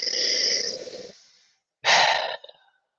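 Deep breathing during a breathwork exercise: a long, loud airy inhale or exhale, a pause, then another forceful breath ending in a short puff, close to the microphone with no talking.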